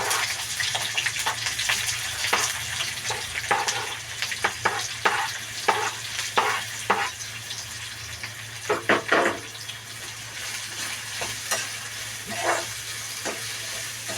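Finely chopped onion with garlic cloves frying in a pan for fenugreek-leaf bhaji, a steady sizzle with repeated sharp scraping stirs across the whole stretch, close and fairly loud, no voices.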